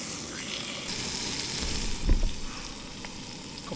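Pork steaks frying in a pan at a wild camp, a steady close sizzle with a brief louder crackle burst midway, no talking.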